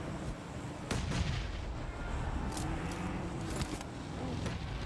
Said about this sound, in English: Nade after nade to keep the pressure on downhill.